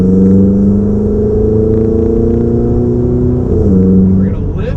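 A Ferrari 488 GTB on a race track, its engine droning steadily in a strong harmonic tone from inside the cabin, then pitch shifting sharply near the end as the driver lifts off, loud and close, with a voice talking over it.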